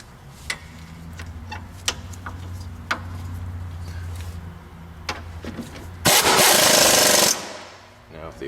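A burst of impact-wrench hammering on a 2002 Ford Focus during clutch replacement, a loud dense rattle lasting about a second after scattered clicks and tool knocks, with a low engine-like hum underneath.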